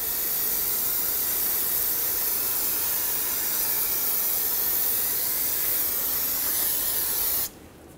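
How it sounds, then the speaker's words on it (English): Brake parts cleaner sprays in one long, loud, steady hiss from an aerosol can during rear wheel cylinder work on a 1995-2004 Toyota Tacoma, stopping abruptly near the end. "Clean it off with some brake parts cleaner."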